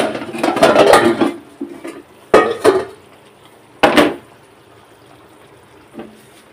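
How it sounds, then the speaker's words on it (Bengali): Onions tipped into a cooking pan, giving a loud scraping, clattering burst followed by a few sharper stirring knocks and scrapes, then quieter pauses with a faint late tap. "এখন পেঁয়াজ দিব"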